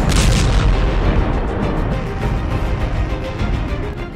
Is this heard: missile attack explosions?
yes